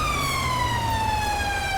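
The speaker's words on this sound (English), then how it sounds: "let me silence this siren real quick" Police car siren in GTA 5 with a British police mod, a steady wailing tone sliding slowly downward, loud and close over an engine rumble, heard alone with no voices.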